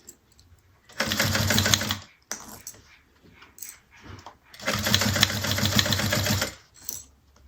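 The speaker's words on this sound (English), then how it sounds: "That little clicking sound when I sew over lots of layers." Sewing machine stitching through many thick layers of fabric for a bag, two loud bursts of rapid mechanical stitching with a faint clicking rhythm, separated by a quieter pause with handling noises.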